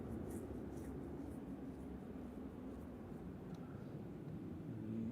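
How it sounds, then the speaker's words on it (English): A noisy propeller aircraft at Manchester Airport gives a low, steady engine drone from a distance. "I can hear a noisy prop"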